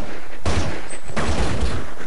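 A Counter-Strike match with a headshot: dense, loud bursts of rifle fire in two quick volleys over a constant noisy game background.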